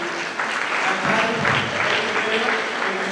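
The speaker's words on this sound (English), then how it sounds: "Let us give a round of applause" A crowd applauding at an award presentation, dense clapping that swells slightly after the first half second and continues steadily for about three seconds, with faint voices mixed underneath.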